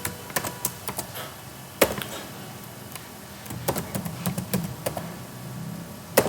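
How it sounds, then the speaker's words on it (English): Computer keystrokes tap out a command in an irregular pattern of sharp clicks, some single and some in quick bursts, heard close and alone with no talking. "So let me type the command cd"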